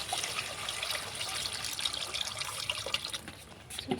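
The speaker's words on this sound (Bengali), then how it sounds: "এতে এবার আমি জল দিয়ে দেবো" Water poured into cooked, fried-down masala for a Bengali potol curry, heard as a steady close trickle and splash with a light sizzling hiss throughout.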